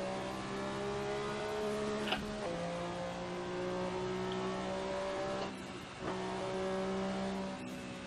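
A Porsche 962C race car in Assetto Corsa, its engine droning loud and steady through held gears, with brief dips and jumps in pitch at a few gear changes.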